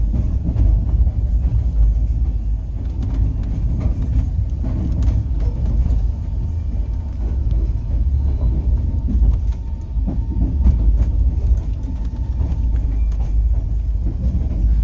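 A Rajdhani Express running from Howrah to New Delhi, heard from inside: a loud, continuous low rumble with faint rhythmic clicks from the wheels, steady throughout.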